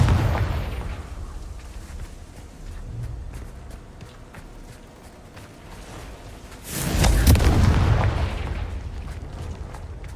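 A Confringo spell explosion from the video game Hogwarts Legacy bursts out as a loud, booming blast after a stretch of quieter rumbling gameplay ambience, its roar lingering and fading over several seconds.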